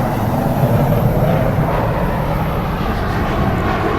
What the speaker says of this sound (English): The Airbus A380 is the world's largest passenger aircraft